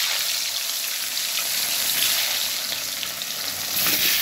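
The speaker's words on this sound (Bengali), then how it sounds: "দেখুন ওই তেলেতে আমি একটু আলুটাকে ভেজে নিচ্ছি।" Potato pieces frying in hot oil in a pan, a dense steady sizzle that holds level throughout, close and with no talk over it.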